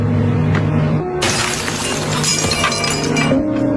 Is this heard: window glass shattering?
yes